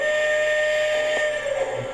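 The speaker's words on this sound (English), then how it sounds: "So now we're going to blow the whistle." Whistle of a Lionchief Pennsylvania Keystone toy train locomotive, a sustained steady tone with hiss lasting the full two seconds, heard up close without talk.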